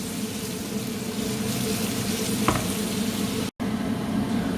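Vegetables for borscht frying in oil in a pan, a steady close sizzle with a brief stir or clink partway through and a momentary dropout near the end, no voices.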